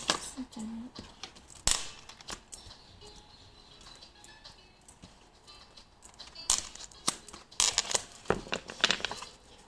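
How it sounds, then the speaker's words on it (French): Tarot-style cards are drawn and shuffled from a deck, producing crisp slaps, riffles and rustles in bursts, loudest near the start and the end, with quieter handling between. "Alors je vais tirer les cartes et puis ensuite je vous montre."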